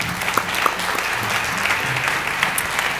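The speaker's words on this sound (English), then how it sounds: "Give yourself a round of applause." Audience applause at a high school orchestra gala concert, a full, sustained round of clapping from a large crowd with a few sharper claps standing out near the front.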